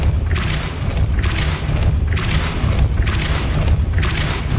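Depulso spell blasts in the video game Hogwarts Legacy come as four heavy booming whooshes, each swelling and fading in a regular rhythm, loud and close, with no speech over them.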